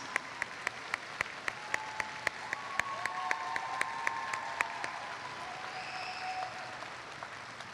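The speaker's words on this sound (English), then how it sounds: "Please join me in a round of applause honoring these students" A commencement audience applauds award-winning students, a soft, distant wash of many hands clapping, with one sharp, close, steady clap repeating on top and faint voices beneath.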